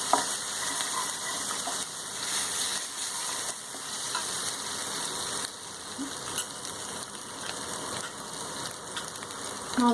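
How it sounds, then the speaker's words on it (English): Grated ginger sizzles steadily in a hot pan, a constant crackling fry with occasional scraping and stirring clicks, close and moderately loud, with no talking. "then here goes the grated ginger, cook it just for a minute or two."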